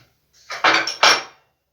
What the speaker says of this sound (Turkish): Evet bunları ilk olarak çok güzel bir şekilde karıştırıyorum